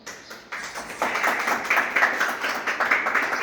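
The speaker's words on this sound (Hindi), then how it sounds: "एक बार विवेकानंद जी के लिए जोरदार तालियां बजाएं सब लोग आप।" A school audience at a National Youth Day celebration breaks into clapping for Vivekananda, starting with a few scattered claps and swelling into steady, rhythmic applause.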